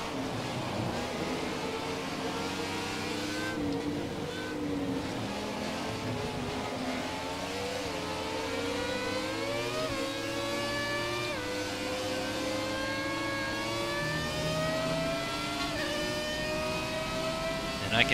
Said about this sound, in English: And I can hear them now.